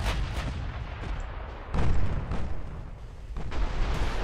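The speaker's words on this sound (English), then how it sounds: "Oh no, Orion's down from one torpedo." A torpedo strikes a warship in Ultimate Admiral: Dreadnoughts, producing a dense rumbling blast that swells partway through and carries over continuous thunder of naval gunfire and explosions, all loud and close.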